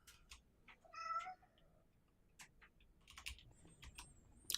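A pet cat meows several times, close and fairly loud, with quick computer keyboard typing clicking in between and no talking.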